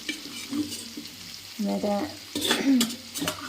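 Boiled chicken, seasoned with turmeric and salt, drops into a hot pan and fries with a brief sizzle, followed by scraping and stirring sounds. A voice can be heard faintly in the middle of it.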